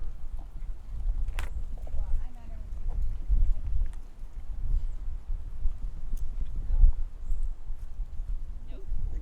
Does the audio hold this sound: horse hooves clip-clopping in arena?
yes